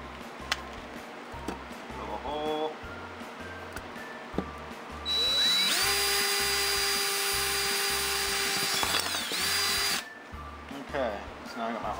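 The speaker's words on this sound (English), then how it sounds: "Take my drill." A power drill boring a hole during a Hypercube Evolution 3D printer build, a loud steady whine running for about five seconds amid workshop clicks and handling noise.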